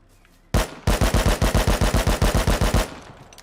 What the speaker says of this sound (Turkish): keleşin sesini duymak istiyorum.